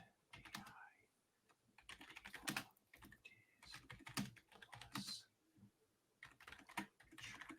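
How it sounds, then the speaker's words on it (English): Typing on a computer keyboard in irregular bursts of rapid clicks with short pauses between, close and fairly quiet, with no one speaking over it. "Might help if I was typing."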